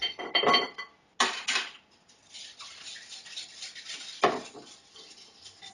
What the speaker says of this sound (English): Give that another whisk.